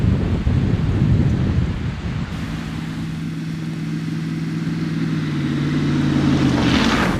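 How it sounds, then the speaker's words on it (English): A Mercedes-Benz G55 AMG climbs a slippery, unplowed snowy mountain road, a loud low engine drone under heavy wind rush, with a steady tone rising in the cabin partway through. "I'm just driving on a mountainside where the snowplows have not yet reached the road, and it is slippery"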